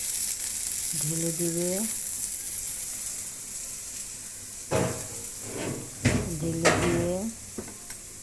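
Onions sizzle in a pan after cauliflower and potatoes were fried, a steady hiss under a voice, with bursts of louder spattering and utensil scraping toward the end.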